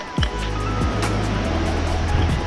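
Ocean surf rolls steadily onto Serenity Beach in Puducherry, a surfing spot, as a continuous broadband wash with a low droning hum underneath and no clear breaks between waves.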